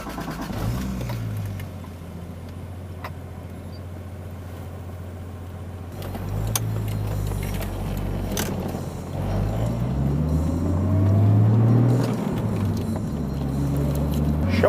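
A Toyota Supra Mk3 with a 7M-GTE engine is heard from inside the car: a steady low drone settles at first, then the revs climb and swell louder toward the end, with no talking.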